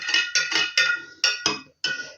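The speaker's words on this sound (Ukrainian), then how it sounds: "Гарненько ще розмішаю її." A spoon stirs salt brine in a glass jar, ringing against the sides in a run of sharp, bright clinks in quick bursts with short pauses, close and fairly loud, with no talk.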